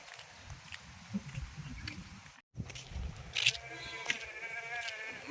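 Sheep bleat faintly outdoors in a couple of short calls near the end, over quiet rustling and soft footsteps.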